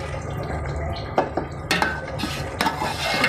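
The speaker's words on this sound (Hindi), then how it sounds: "इनको भी हम 2 से 3 मिनट तक भूनेंगे कि बहुत अच्छे से भुनाई कर लेंगे।" Mutton being stirred and fried in a pot for a shorba gravy, with a soft continuous sizzle under several sharp scraping and clinking knocks of a spoon against the metal pot.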